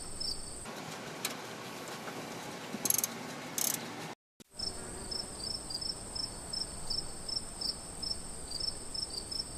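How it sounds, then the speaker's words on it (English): A ratchet with a 10mm socket tightens a rear brake part on a 1995 Ford Explorer, giving a quick, regular run of light metallic clicks, faint and close, after a brief cut in the sound. "We're going to use the 10mm socket on the ratchet to tighten this up."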